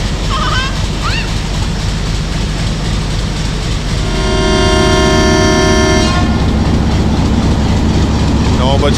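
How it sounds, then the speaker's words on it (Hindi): A loud, sustained train horn sounds for about two seconds over heavy engine rumble, with background noise around it, as a Rawalpindi–Havelian passenger train departs Haripur Hazara station in rain. "इनिशियल हॉर्न हो गया है।"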